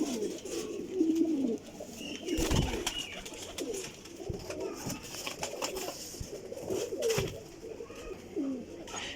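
Flying pigeons in a loft coo repeatedly in soft, throaty bursts at close range, with some wing flutters and shuffling and a steady low background hum.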